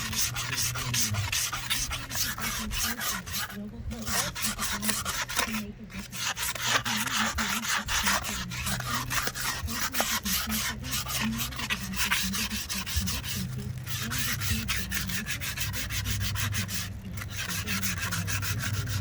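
Surface rust is scrubbed off the rims of a 1980 Jeep CJ7 with steady circular rubbing, a continuous close, loud abrasive scratching that keeps up with only brief pauses.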